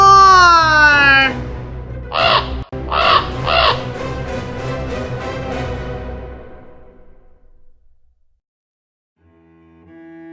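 A raven caws in a sound effect for a reading of Poe's poem The Raven: a loud, close, harsh call followed by three quick rasping caws, then a fading tail into near silence.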